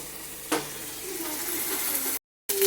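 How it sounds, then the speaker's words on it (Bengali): Spice paste sautéing in a pan makes a steady sizzling hiss, with a sharp utensil clink near the start and a brief gap of silence before the sizzle resumes. "মশলাটা ভালো করে কষিয়ে নিতে হবে। মশলাটা কষুক, ভালো করে কষুক।"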